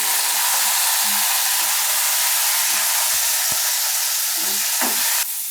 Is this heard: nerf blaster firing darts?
no